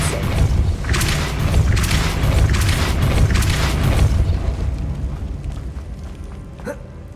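Depulso spell cast in the Hogwarts Legacy video game, a dense booming burst with rumbling thumps that swells for about four seconds and then fades, loud and alone.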